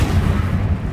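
The Incendio fire spell is cast in Hogwarts Legacy, a single short, loud, low whooshing burst of flame that booms and fades within about a second.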